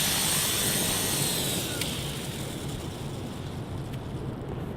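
A Walkera HM UFLY S RC helicopter settles in to land indoors, its rotor whine and rushing airflow steady and close before easing slightly as it touches down.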